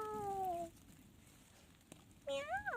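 Two meows, one at the start and one near the end, sounding like a person imitating a cat, with a quiet pause between them.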